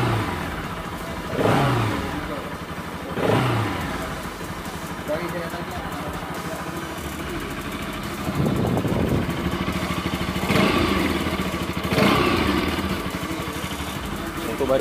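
Modenas Bajaj Pulsar RS200 motorcycle engine idling close by with several short throttle blips rising and falling, under someone talking in Malay.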